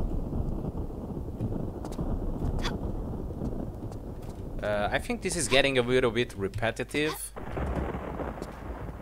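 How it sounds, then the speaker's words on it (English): Storm rumbling around the pyramids in the video game Tomb Raider IV, a low continuous roar with thunder-like swells that persists steadily while someone talks over part of it. "Going around the pyramids, hearing this storm going on."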